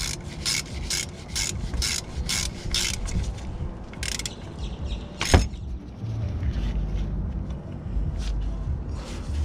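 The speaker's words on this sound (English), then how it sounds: "let's throw our ratchet on there." A ratchet clicks in quick regular bursts while tightening the ATF drain plug on a 2006 Acura TL, followed by a sharp metallic knock and quieter scraping handling close by.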